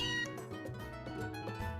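Meowth from the Pokémon Sun video game lets out a short meow over a dense, steady bed of game music.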